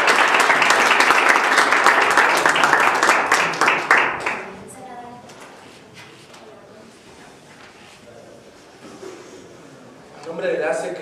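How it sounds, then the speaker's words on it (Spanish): An audience at a formal social development policy presentation breaks into loud applause for about four seconds, then the clapping dies away into a quieter room with talk, before a brief burst of noise returns at the end. "Le pido un aplauso a todos para..."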